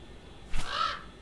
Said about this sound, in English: What's with this nasty crow?